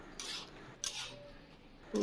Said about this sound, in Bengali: মশলাগুলো দিয়ে আবার নাড়াচাড়া করে নেব